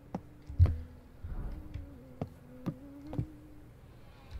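An insect hums in the horror video game Summer of '58, a thin steady drone broken by scattered sharp clicks and thumps, alone without talk.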